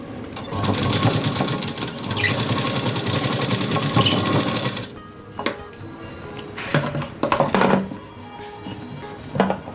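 A sewing machine stitches tucks on the front panel of a blouse, whirring loudly and steadily for about four seconds before stopping, followed by softer clicks and handling knocks of the fabric and machine.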